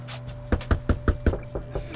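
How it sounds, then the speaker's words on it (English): Knocking on a door indoors: a steady series of about seven firm, evenly spaced knocks, close and loud, with no voices during the knocks. "Who was knocking?"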